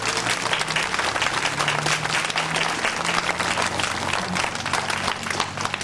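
A school event audience of children and adults gives steady, loud applause for first and second grade teachers, a dense wash of clapping that holds evenly throughout with a faint hum beneath.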